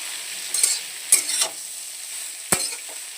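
Cabbage is stirred in a hot pan: a steady soft sizzle is broken by three or four sharp scraping strokes of the spoon, close and fairly loud, with no voices.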